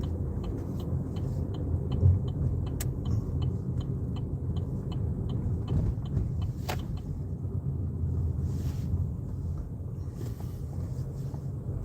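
A car rolling along with a steady low engine and road rumble, broadband wind and tire noise throughout, plus a light regular ticking, with no talking.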